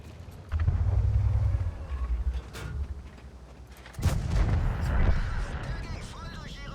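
A tank gun fires in World of Tanks, with two heavy booming shots a few seconds apart, each followed by a rumbling decay, close and loud over low game ambience.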